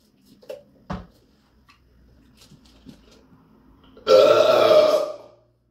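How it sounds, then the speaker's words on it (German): A loud, drawn-out burp after drinking bottled cola erupts near the end, lasting about a second, preceded by a few faint clicks and small handling noises in a quiet room. "ob ich in diesem Video noch ein paar gute Rülpser raushauen könnte"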